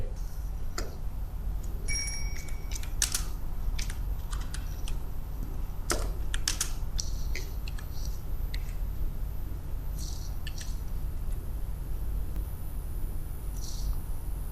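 Keys clatter on a computer keyboard as a user ID is typed, with irregular bursts of close, crisp clicks over a steady low background hum and no talking.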